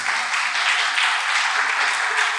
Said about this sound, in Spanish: Vamos a dar una ofrenda de palmas a nuestra hermanita que nos visita por primera vez.